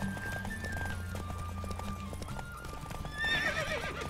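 A horse in the video game The Witcher 3 gallops with rapid, continuous hoof clip-clops, then lets out a loud whinnying neigh near the end.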